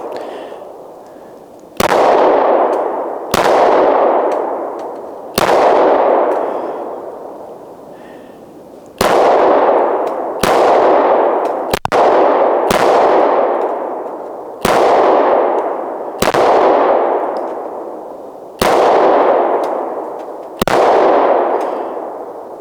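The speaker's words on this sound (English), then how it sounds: "I'm gonna shoot the rest of this magazine just at these twigs and the blue tape." Around eleven loud, sharp reports from an M&P Shield 9mm pistol firing outdoors at twigs and blue tape, each crack followed by a long echoing decay, in uneven spacing with a quick double shot partway through.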